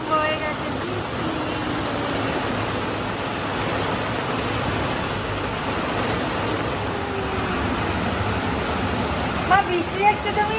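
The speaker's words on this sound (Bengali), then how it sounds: "কত জোরে বৃষ্টি আরম্ভ হয়েছে।" Heavy rain pours down steadily, a dense, loud hiss that runs unbroken throughout, with a few faint knocks near the end.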